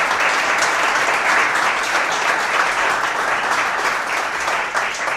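Loud, sustained audience applause fills a Laravel meetup room, dense steady clapping from a crowd continuing without pause.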